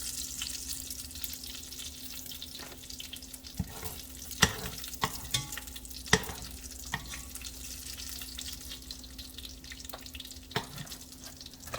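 Bacon sizzles steadily in a pan, with occasional sharp clicks and scrapes as strips are lifted out with a utensil. There is no talking.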